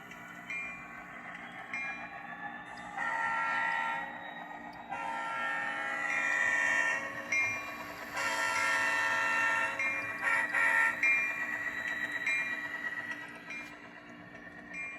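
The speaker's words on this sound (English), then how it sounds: "So while I have this locomotive running, I'm going to keep an eye on it." A model train locomotive runs on powered inclined track, a steady mechanical rumble with rising and falling intensity across the run, fairly close and continuous with no talking.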